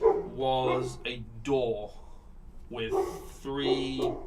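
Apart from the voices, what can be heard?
dog barking, sound effect for a tabletop game hellhound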